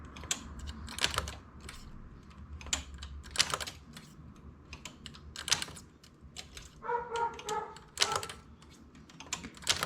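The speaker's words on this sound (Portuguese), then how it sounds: "Esse que tá latindo no fundo é o vizinho meu aqui, o Fred." A neighbour's dog barks intermittently in the background, mixed with steady clicking and tapping from a knitting machine nearby, with no one speaking.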